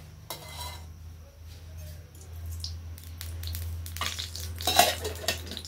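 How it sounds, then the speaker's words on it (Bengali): Oil hitting a hot kadai with curry leaves, giving a broadband sizzle that swells after a few seconds, with clinks of a utensil against the pan. Low steady hum underneath, no voices. "কড়াটা কিন্তু ভালোই গরম হয়ে গেছে। তেল দিয়ে দিই"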